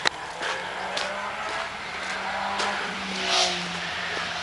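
Traffic on a busy main road in Wallingham, heard near the road as a continuous wash of passing cars with engine hum, tire noise and occasional louder swells, with no speech.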